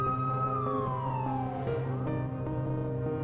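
An ambulance siren wails continuously, its pitch sliding downward as the vehicle passes, with steady traffic rumble beneath.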